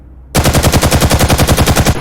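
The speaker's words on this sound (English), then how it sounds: "The next thing is a Thompson here." Thompson submachine gun in an Unreal Engine 5 horror game remake, firing a loud, rapid, evenly spaced burst that starts abruptly from near silence and continues without pause.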